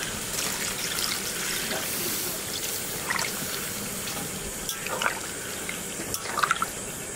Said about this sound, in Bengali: মাংস কষানো হয়ে গেছে, এবার জল দিয়ে দেবো।